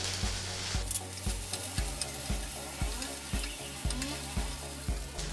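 Ginger garlic paste sizzles in a pan with softened onions for rajma masala, a constant close hiss punctuated by steady spatula taps and scrapes about twice a second.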